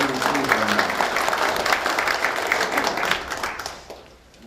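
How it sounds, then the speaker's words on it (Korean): Applause from the attendees at an expanded staff meeting as a newly appointed official is introduced, a dense steady clapping that fades out toward the end. "큰 박수를 맞이해주시기 바랍니다."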